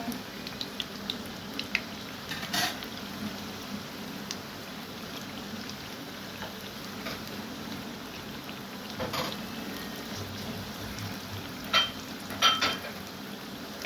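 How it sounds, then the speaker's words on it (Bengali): Semolina laddu frying in oil until reddish, a quiet bubbling crackle heard close and alone, with a few brief louder clinks or stirs scattered through. "ভেজে নিতে হবে লাল লাল করে।"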